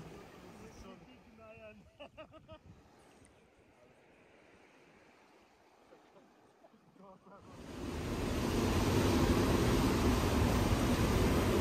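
Quiet sounds give way midway to a loud, steady rush of surf washing in on a Dubai beach, close and continuous, with no voices over it.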